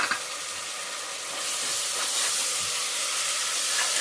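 Ground paste sautéing with onions in a pan for mint pulao, a steady close hissing sizzle that swells a little louder partway through.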